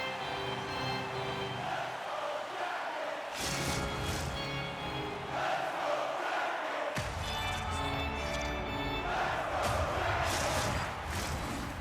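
Arena crowd at an NHL 25 hockey simulation between the New York Islanders and Columbus Blue Jackets, a loud, sustained roar and cheer that fills the whole stretch with swelling surges.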